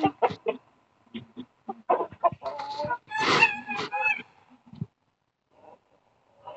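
A small chicken clucking in short bursts close by, with a louder squawking cluster in the middle and quieter clucks trailing off.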